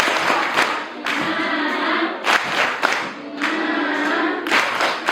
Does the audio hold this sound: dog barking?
no